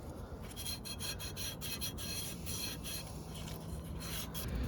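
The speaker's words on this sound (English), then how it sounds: "we need to lightly sand it off." A painted engine part being lightly sanded with 400 grit sandpaper during a Datsun 280Z L28 engine assembly, giving a soft, continuous rasping rub with quick back-and-forth strokes, faint and close, with no talk.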